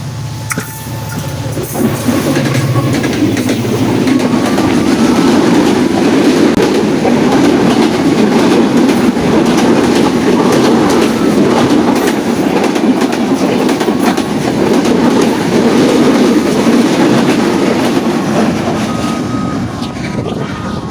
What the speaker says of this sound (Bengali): আমার পিছন দিয়ে এখন ট্রেন চলে যাবে